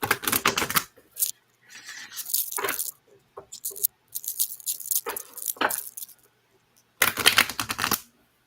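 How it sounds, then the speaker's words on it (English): Tarot cards being shuffled, several quick papery riffling bursts separated by short pauses, close and crisp, with a final longer shuffle near the end. "Dang, my cards didn't want to shuffle on that one."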